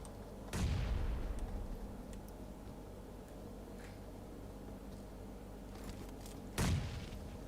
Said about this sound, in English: couple of nades coming here and there